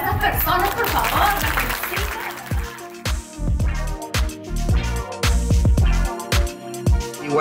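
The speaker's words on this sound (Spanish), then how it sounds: "un aplauso para estas personas, por favor" Live audience applause for first-generation immigrants at a Spanish-language event, a broad wash of clapping in the first seconds that gives way to loud rhythmic music with heavy beats.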